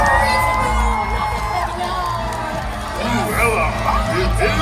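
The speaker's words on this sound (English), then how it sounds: "Clap, stomp, and scream" Audience at a Disney Villains stage show at Walt Disney World's Hollywood Studios theme park, cheering, whooping and shouting loudly and continuously, with children's voices in the crowd.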